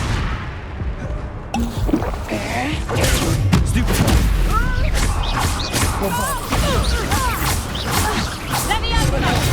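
Blasting fire spells in Hogwarts Legacy on PS5 crash and boom through a loud, busy battle soundscape, with repeated bursts layered over continuous action noise and occasional voices.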